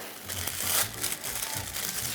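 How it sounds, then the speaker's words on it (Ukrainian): Plastic roasting bag crinkles and rustles in close handling while preparing a turkey drumstick with pumpkin and beer, a dense, continuous crackle without speech. "Пакет для запікання."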